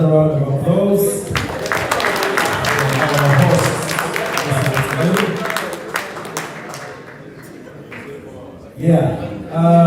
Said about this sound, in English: All right, ladies and gentlemen, another round of applause.